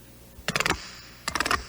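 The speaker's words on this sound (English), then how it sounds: "That sound is the disc that gives you a custom fit and improved performance." Two quick bursts of rapid clicking, like a ratcheting dial being twisted, separated by a short pause in a quiet room, from the fastening disc of a laceless Puma Disc athletic shoe being turned.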